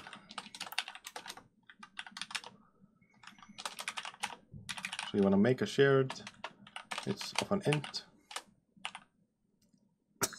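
Rapid clicking and clacking of a computer keyboard comes in bursts and short runs of keystrokes, with a person talking partway through.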